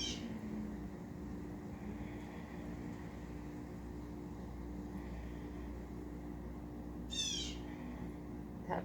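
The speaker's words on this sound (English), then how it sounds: "That bird is so loud." A loud bird calling outdoors, heard as two brief sharp squawks, one at the start and one near the end, over a steady low background rumble without talking.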